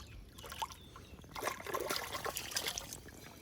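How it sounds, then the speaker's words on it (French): A carp slips back into the water at a gravel pit, brief splashes and trickling water close by, fairly faint. "allez, on va la remettre à l'eau."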